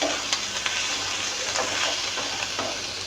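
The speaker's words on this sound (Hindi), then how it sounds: "सॉस बनाने के लिए सबसे पहले हम पैन में 2 टेबलस्पून कुकिंग ऑयल शामिल करेंगे और इसमें 1 टेबलस्पून गार्लिक पेस्ट डाल देंगे" Garlic paste frying in two tablespoons of cooking oil in a pan, a continuous close hissing sizzle with a few soft stirring scrapes, alone and steady.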